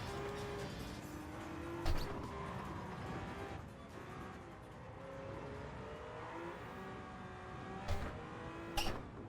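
Race cars in Gran Turismo 7, played in VR on PSVR2, drone with sustained engine tones that rise and fall through gear changes, with a few sharper bumps or squeals in between.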